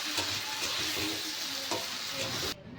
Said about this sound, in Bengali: একটুখানি ভালো করে নেড়ে চেড়ে নামিয়ে নিতে হবে